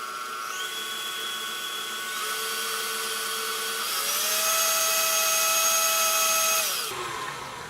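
An electric mixer whips buttercream made with vanilla and heavy cream, giving a steady motor whine that steps up in pitch and loudness partway through, then drops as it winds down near the end, with no voices.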